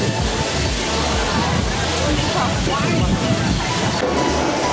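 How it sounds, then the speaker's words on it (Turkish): Constant rushing and splashing of a waterfall pouring into a pool at a Bangkok temple, steady and fairly loud throughout with a faint murmur of crowd voices mixed in. "Şöyle dinlendirici bir şelale havuzu var."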